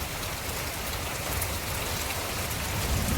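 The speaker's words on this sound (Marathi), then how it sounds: "एकदम जबरदस्त पाऊस लागलेला असा." Heavy monsoon rain in May in the Konkan countryside, a steady dense hiss of downpour pattering on surfaces, close and unbroken, with no voices.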